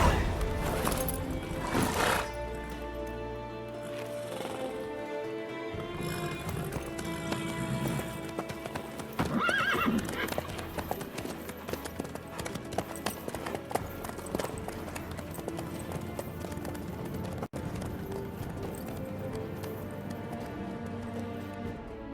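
Horse hooves clip-clop at a steady run in The Witcher 3, a continuous rhythmic patter under layered game sounds and music, with a brief whinny-like cry, moderately quiet.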